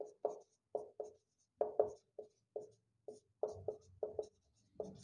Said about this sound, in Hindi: पहले परिभाषा लिखते हैं।